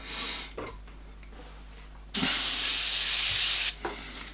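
An airbrush gun sprays paint in one loud, close burst of steady hiss lasting about a second and a half. Quieter air puffs and faint handling sounds come before and after it.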